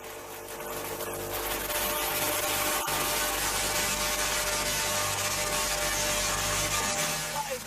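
A Tesla coil demonstrating wireless power at about a million volts gives off a steady buzzing, hissing crackle with a low hum underneath, fairly loud and continuous, broken by one sharp snap.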